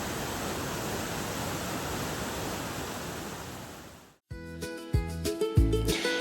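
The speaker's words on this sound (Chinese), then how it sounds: "這裡是世界上最寬的瀑布，沒有之一哦。" The world's widest waterfall in Laos in the dry season, with low water flow: a broad, steady rush of falling water heard for about four seconds before it fades out and music begins.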